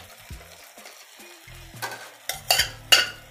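Ingredients frying in a pan for a mutton and drumstick curry, quiet at first with faint pan contact, then a few loud bursts of sizzling and scraping as the mix is stirred.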